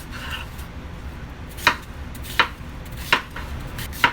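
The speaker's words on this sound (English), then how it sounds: "just go ahead and just cut your cucumber" A knife cuts a cucumber into chunks on a cutting board, four crisp, evenly spaced chops landing against a low background hiss, close by with no talking.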